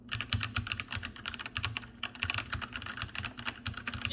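Rapid typing on a Royal Kludge RK61 mechanical keyboard, a dense continuous stream of sharp close-up key clicks and clacks with an uneven rhythm and no voices.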